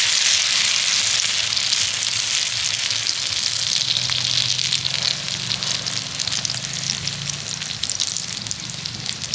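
An egg and potato mixture fries on an oiled tawa, a loud, continuous crackling sizzle that stays close and steady throughout with no speech.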